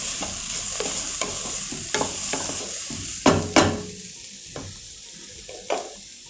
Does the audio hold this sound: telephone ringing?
no